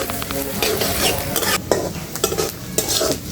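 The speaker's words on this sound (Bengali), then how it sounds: "এই তো পেঁয়াজটা ভাজা ভাজা হয়ে গেছে" Onions fry in a pan and are stirred, a loud, steady sizzle with a spatula scraping in repeated strokes.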